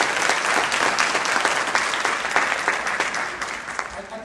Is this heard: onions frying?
no